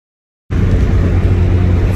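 After half a second of silence, a VW MK1 Rabbit on its first test drive comes in with a low, steady engine drone that holds level, close and fairly loud.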